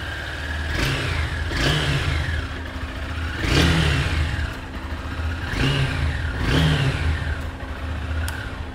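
A Honda Hornet 2.0 motorcycle idles after a cold start, its exhaust note rising in several throttle blips over a steady low rumble, heard up close with no talking.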